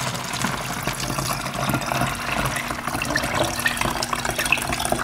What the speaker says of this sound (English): take the funnel again